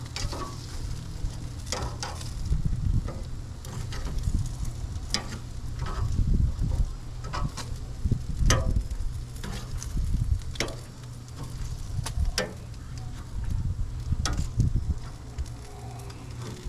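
Chicken wings sizzle over a two-zone grill, a steady frying crackle with intermittent louder pops and scraping bursts as pieces are moved, no voices.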